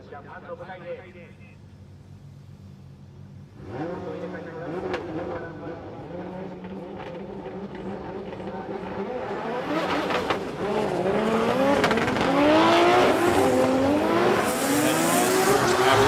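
Drift cars in a Formula Drift Japan Top 32 battle at Ebisu Circuit West Course, Fukushima, with engines revving and tire squeal building as the pair runs through the corners, loud and continuous under a commentator's voice.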